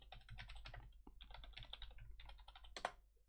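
Quick bursts of keyboard clicks from typing a password on a computer, close and fairly quiet, in clustered runs with short pauses and a sharper final keystroke, no voices.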